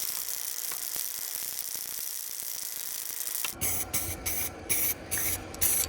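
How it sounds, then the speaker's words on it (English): A can of matte black spray paint hisses in short, repeated bursts onto car fuel lines, close up, after a quiet stretch of faint handling noise. "We're going to paint the fuel lines with this matte black spray paint"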